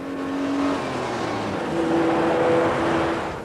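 Steady Mitsubishi Shogun engine drone with road roar, rising and easing as it accelerates, heard from inside the vehicle with no talking.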